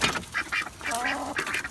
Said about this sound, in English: These ducks and chickens are very happy.